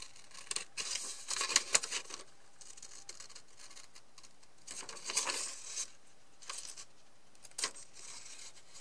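Scissors snip through paper while cutting out a paper piece for a handmade envelope flipbook album, in a series of short, crisp close-up cuts spaced with pauses, fairly quiet with no talking.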